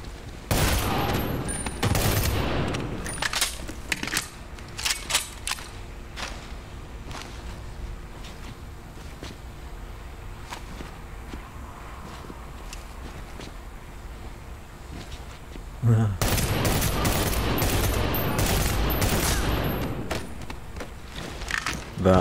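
A weapon fires in the shooter game Warfighter: loud bursts of rapid gunfire at the start and again near the end, with scattered single shots and quieter game ambience between them.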